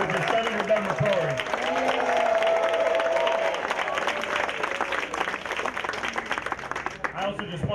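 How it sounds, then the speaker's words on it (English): A crowd at a legacy weekend event gives a warm round of applause for a state senator, steady dense clapping with some cheering that carries on for several seconds before thinning out. "Let's just start with another round of applause for the person who really made this happen, which is Senator Doug McCrory."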